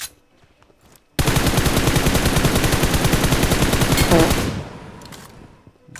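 Enemy bots open fire in a mobile shooter game, a loud continuous burst of rapid automatic gunfire lasting about three seconds before trailing off, with quieter game sounds before and after.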